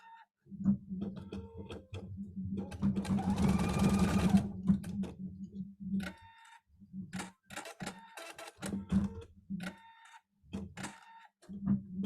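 A home embroidery machine stitches a heavy tack-down stitch, its needle chattering in a fast rhythmic whir that pauses and restarts in short bursts, close up with no talking.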